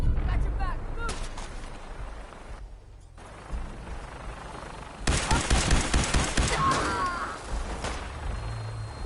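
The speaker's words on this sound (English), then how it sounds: "I need covering fire!" Video game battle gunfire laying down covering fire, bursts of rapid shots and heavy booms mixed with shouting voices, loud and close, with a quieter gap before the firing intensifies.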